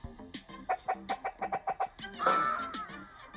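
Chicken clucking from the Chicken Gun video game: a quick, evenly spaced run of about a dozen short clucks, then a louder, drawn-out squawk, with no voices.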